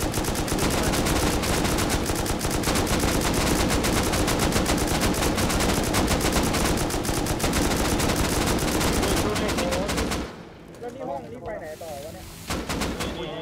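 Continuous heavy gunfire during a base raid in the survival video game Rust, dense and loud for about ten seconds before dropping off, with a few scattered shots returning near the end.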